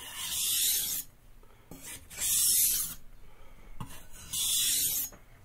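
A santoku knife is drawn across a sharpening stone while its bolster is corrected: three long, rasping strokes of about a second each, separated by short quiet pauses, close and fairly loud.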